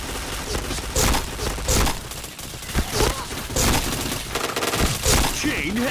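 Rapid bursts of gunfire ring out in a shooter video game, sharp cracks and fusillades in quick clusters with brief gaps between volleys.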